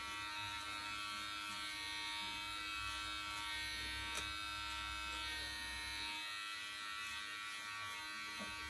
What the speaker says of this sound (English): you want to just use the edge of the clipper so you don't do too much